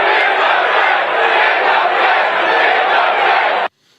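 A large libertarian convention crowd roars and chants steadily as one dense wall of voices, loud and continuous before cutting off abruptly near the end.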